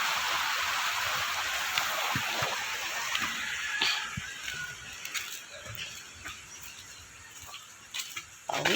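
Water rushing along a stream on the way home past a closed gate, a steady broadband wash close by with scattered splashes and a few faint knocks, and no talk.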